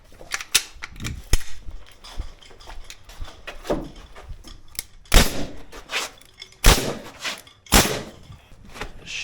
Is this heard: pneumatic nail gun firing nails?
yes